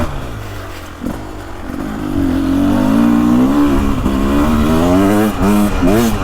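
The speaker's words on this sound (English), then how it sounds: "Beta knows how to make these two-strokes engines run smooth and clean." A 2024 Beta 300 Race Edition two-stroke dirt bike engine revs up and holds a loud, rising and wavering buzz on a trail ride, with throttle blips near the end.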